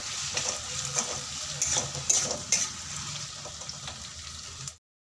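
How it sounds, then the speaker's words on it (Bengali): Ginger and dried chilli paste with chopped green chilli being stirred in a hot pan for chicken, repeated scraping strokes over a soft sizzle, close and alone before cutting off. "এটা দিয়ে বেশ কিছুক্ষণ নাড়াচাড়া করে নেব"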